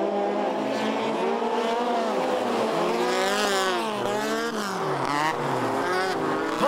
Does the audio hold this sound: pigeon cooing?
no